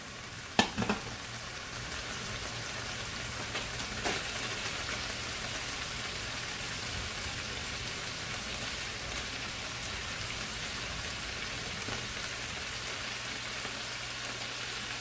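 Onions frying with spicy chicken in a stir-fry pan make a dense, continuous sizzle like steady rain, with a couple of sharp clicks near the start.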